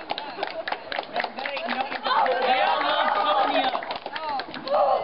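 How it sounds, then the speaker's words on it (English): Crowd applause and cheering swell in the middle at a mousetrap car event, with excited voices talking over it near and far. "They're clapping because of the announcements."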